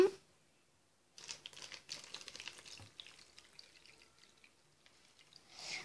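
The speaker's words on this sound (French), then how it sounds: "Regardez maintenant si je mets de l'eau dedans" Red water poured into a small model arch dam, a quiet trickling and splashing that begins after a second of near silence, then patters unevenly and fades out before swelling slightly at the end.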